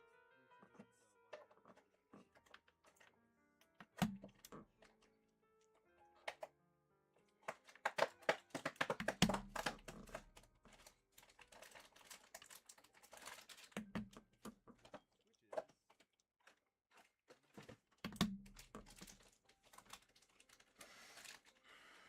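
Mechanical keyboard switches pressed one by one into a PlayKeyboard Smurve 80 keyboard during a build, giving scattered clicks and snaps with short quiet gaps, close and moderately loud, no talking.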